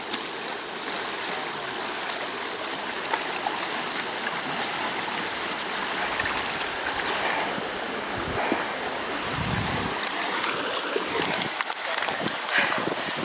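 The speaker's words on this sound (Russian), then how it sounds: "Мы только что перешли вброд, очень большую реку." Loud rushing water of a large river with a strong current, waded across on a forest hike, a steady broadband wash with splashing from the crossing; voices are faintly present.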